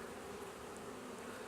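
Honey bees crawl over a honey frame in a double-deep hive being broken down for winter, their soft, dense buzzing a steady faint drone with no voices.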